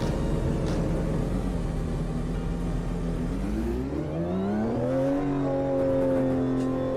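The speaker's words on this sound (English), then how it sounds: "Oh, this car sounds so cool" A race car engine in the Automobilista 2 sim racing game, a loud continuous drone that holds steady, then climbs in pitch through rising revs and shifts, with whirring drivetrain tones and no talk.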